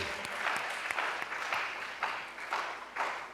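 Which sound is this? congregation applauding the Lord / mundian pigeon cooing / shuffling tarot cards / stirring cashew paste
congregation applauding the Lord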